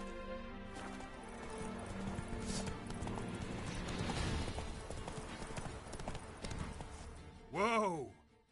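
Roach the horse gallops in The Witcher 3, its hoofbeats drumming steadily over a busy game soundscape before a loud, close whinny near the end.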